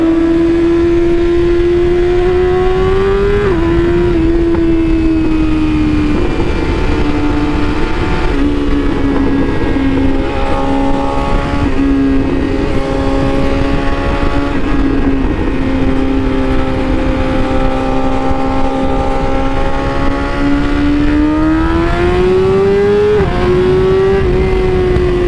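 BMW S1000RR sport bike engine roaring through a tunnel, a loud, sustained high-pitched wail that climbs and dips with gear changes and hard acceleration, echoing, with no voices over it.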